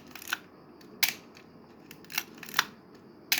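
Shutter of a Canon Canonet 28 rangefinder film camera, running without a battery, fired several times: sharp mechanical clicks at an irregular pace, close and clear against a quiet room.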